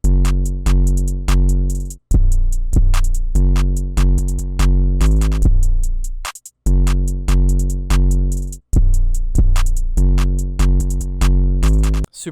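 Full trap drum loop programmed in FL Studio with heavy 808 bass, crisp rapid hi-hats and snappy hits, looping loud and steady with brief dropouts between bars, no voices.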